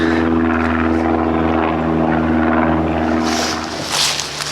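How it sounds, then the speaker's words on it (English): A low-flying airplane drones steadily overhead, loud at first, then its hum thins and fades slightly as it moves away. "There goes a plane."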